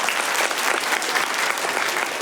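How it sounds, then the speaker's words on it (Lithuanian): Audience applause, dense and continuous, loud and close, steady throughout with no voices on top. "Kartelės plojimai Indrai."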